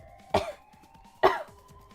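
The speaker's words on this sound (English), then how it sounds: "she's coughing so hard" Clover, a character in the video game Zero Escape 999, coughs hard: two sharp, close hacking bursts about a second apart, each trailing off raggedly over a quiet background.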